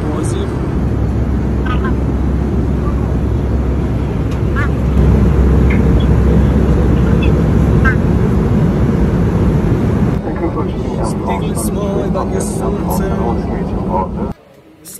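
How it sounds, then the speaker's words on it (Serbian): Steady broadband roar of an airplane cabin in flight, loud and continuous with a low engine drone, shifting slightly in tone partway through before dropping away at the very end; voices murmur faintly underneath. "Ljudi, u avionu smo"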